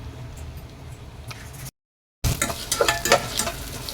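Onions sautéing and being stirred in a pan for garlic chicken gravy, a steady close sizzle with scraping spoon strokes, broken by a brief silent gap before the frying resumes louder.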